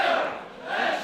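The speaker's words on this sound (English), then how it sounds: "the crowd still showing support, getting behind the challenger from Stevenston" A wrestling crowd at an ICW heavyweight title match chants and roars in support of the challenger Grado from Stevenston. The dense, loud crowd noise swells, dips briefly, then rises again.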